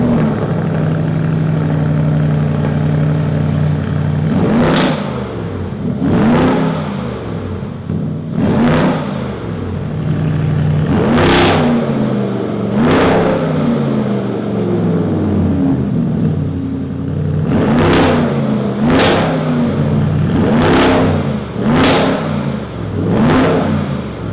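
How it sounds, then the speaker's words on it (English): Porsche Cayenne GTS V8 with its model-specific tuned exhaust revs loudly over a steady idle, roughly ten sharp throttle blips in two bursts, each rising and falling quickly, with no talking. "GTS actually has a specific exhaust tuned specifically for this GTS and sounds like"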